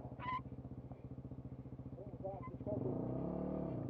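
A Kawasaki KMX125 two-stroke motorcycle engine ticks over with a steady pulsing idle, then rises into a louder sustained rev near the end, close by.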